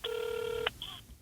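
A telephone dialing tone plays as a steady beep of about half a second, followed by a short click and a briefer second tone, quiet and alone before a call connects.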